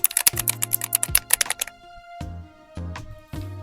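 A desktop mechanical keyboard with light, fairly noisy keys is typed on in a quick burst of sharp clicks, then a pause, then a few scattered keystrokes, close and clear with no talking.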